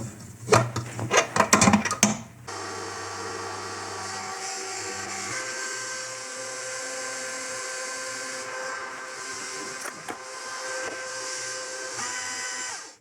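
Soft white bread dough ingredients are mixed in a bowl. About two seconds of rough scraping and rubbing give way to a steady whirring hum that runs for around ten seconds, with no talking.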